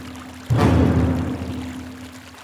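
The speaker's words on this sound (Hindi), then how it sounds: "लगता है इसने फिर से नल खुला छोड़ दिया।" Water gushing from a household tap left open, starting abruptly and running as a loud, steady stream that continues to the end without pause.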